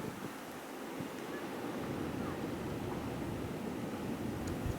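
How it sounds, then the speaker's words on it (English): Strong blizzard wind in New England whipping snow off a roof, a steady, dense roar that buffets the microphone without pause, heavy and close. "Look at this wind, it just scours"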